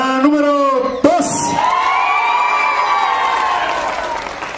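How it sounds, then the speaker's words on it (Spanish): A crowd at a live contest cheers and shouts for a contestant, with loud sustained voices and whoops swelling after a sharp burst, and light clapping mixed into the noisy din. "El aplauso para el número 1."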